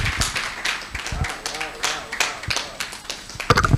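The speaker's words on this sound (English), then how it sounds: "Please let's keep that round of applause going" Delegates at a corporate publishers' annual conference applaud in uneven, scattered claps, some loud and near, while someone speaks over the clapping.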